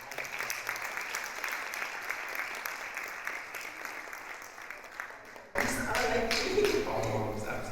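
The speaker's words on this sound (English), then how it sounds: "And a big round of applause to mom." Applause from the audience at a conference hall event in Dubai, a continuous clapping wash that grows fuller and louder partway through.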